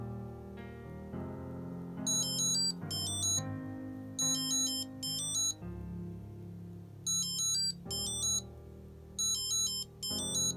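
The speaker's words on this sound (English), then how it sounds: "So now this is the Eufy Smart Track Link. I'll play the sound." A Eufy SmartTrack Link tracker plays its alert, a repeating pattern of bright high electronic chirping bursts over a soft melodic tone, moderately loud in a quiet room.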